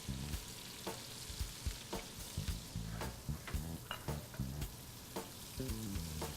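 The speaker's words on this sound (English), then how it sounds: "pan sear those scallops, high heat" Scallops pan-searing in a very hot skillet, a soft, continuous sizzle with repeated light clicks and knocks throughout, fairly faint and with no voices.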